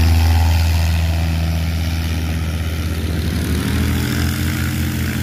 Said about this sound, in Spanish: A ver el despegue de esta avioneta.